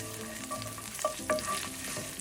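Thinly sliced shallots fry in hot oil for an omelette with a steady, close, crackling sizzle. Scattered pops and stirring scrapes sound throughout, and no one speaks.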